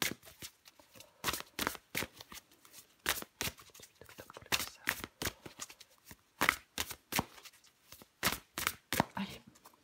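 Oracle cards being shuffled and drawn, a quick series of crisp riffling and slapping bursts in irregular rhythm, close and fairly quiet.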